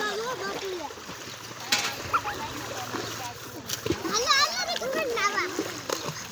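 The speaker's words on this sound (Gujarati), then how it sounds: "ઓલા બધા સાટા ઉડાડે છે" People splash water while bathing in a stream or canal outdoors, with irregular splashes and spray under lively chatter and children's voices throughout.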